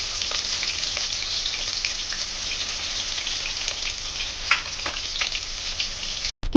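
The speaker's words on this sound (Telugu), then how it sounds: "హీట్ అయిన ఆయిల్లో కట్ చేసుకున్న మిర్చి అయితే వేసుకోవాలి." Cut chillies and onions sizzle in hot oil for a mutton head curry, making a steady, close hiss with light crackling that runs without a break throughout.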